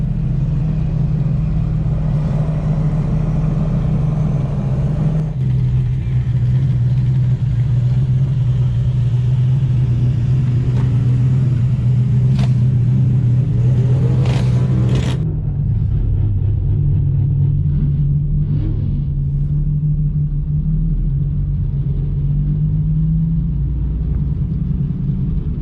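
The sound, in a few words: Honda Insight car engine accelerating nearby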